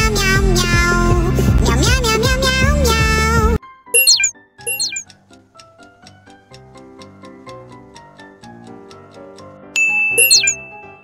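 The Bongo Cat meme song plays: a loud dense musical burst first, then sparse ticking, plinking notes and meow-like chirps in a steady rhythm, ending with a brief bright flourish.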